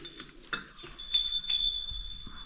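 A small metal ritual bell rings during a Gudi Padwa household worship in the Konkan, giving a few bright, close clinks and a sustained high ringing tone amid quiet handling noises.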